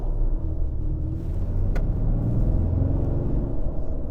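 A 2025–2026 Ram 2500 pickup with an Edge EZ tuner module and a turbo accelerates hard, giving a steady, heavy low rumble that stays loud throughout, with a brief sharp tick in the middle and no talking.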